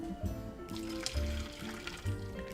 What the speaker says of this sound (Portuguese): O ovo já está cozido, vou reservar, escorrer essa água fervendo.